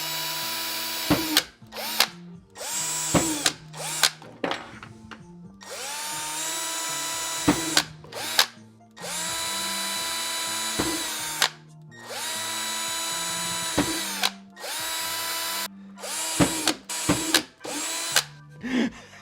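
A power drill bores into a HasLab Proton Pack in repeated whining bursts of a few seconds each, separated by short pauses and clicks of handling, loud and close with no talking.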